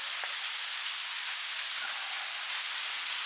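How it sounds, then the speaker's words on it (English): Loud rain drumming on a roof, a dense steady hiss of countless drops that fills the whole stretch without letting up, no voices heard. "so I apologize for the loud rain noise on the roof"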